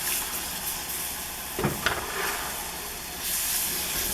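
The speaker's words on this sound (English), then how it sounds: "I'm just going to put a little bit of milk at a time" Milk poured into hot sausage drippings in a pan, a steady loud hiss and sizzle throughout with a brief crackling burst partway and a surge of sizzling near the end.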